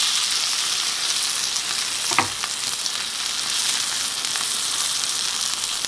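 A T-bone steak sizzles steadily and loudly in a cast iron pan, a dense continuous hiss with one brief clunk as the meat is flipped; no talking.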